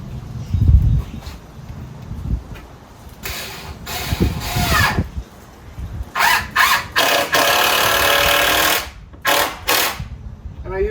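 A power drill drives 3-inch screws into a 2x4 wooden composter frame in several whirring bursts with gaps between them, close and fairly loud, among some handling noise.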